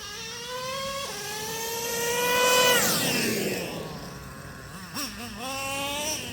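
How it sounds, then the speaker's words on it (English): Car engine revving up through the gears, rising whine broken by quick upshifts, swelling louder midway then settling, with a brief drop and another climbing rev near the end. "notice the RPMs, not only is it shifting faster, the RPMs are going up higher and quicker too"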